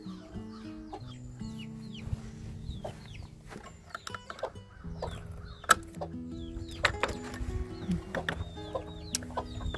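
Several chickens cluck and murmur nearby in short, uneven bursts, with occasional knocks and rustling around them.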